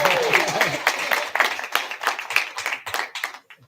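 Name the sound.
applause at community forum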